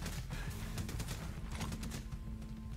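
Rapid bursts of gunfire in the video game Ghost Recon Breakpoint, fired at lights, sound as a dense, steady crackle of shots over a constant low rumble, close and continuous throughout.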